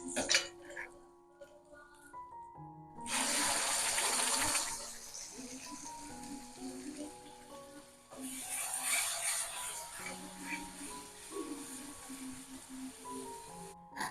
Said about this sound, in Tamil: மிக்ஸி ஜாரை நம்பி அந்த தண்ணியை விட்டுருவோம்